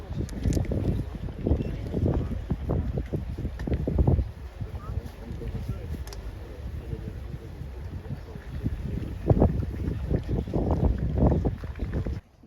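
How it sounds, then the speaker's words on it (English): Wind gusts buffet the microphone outdoors on a golf outing, a low rumbling roar that swells and fades throughout, loudest near the start and end, with a voice talking now and then underneath. "It's a bit windy though."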